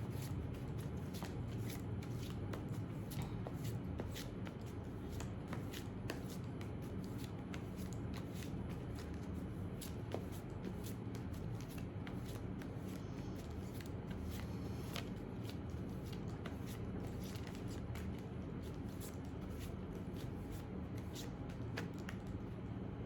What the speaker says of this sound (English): I'll shuffle the cards for you